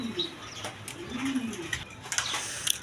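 A pair of Indian Kaldam pigeons coo softly over a noisy background, with a brief flutter of wings and faint chirps from other birds nearby.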